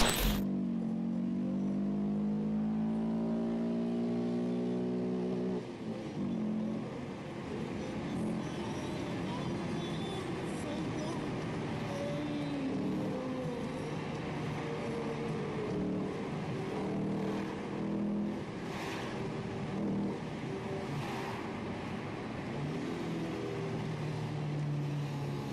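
A car engine revving steadily for the whole stretch, loud and close, with a rising tone early on and continuous mechanical drone throughout.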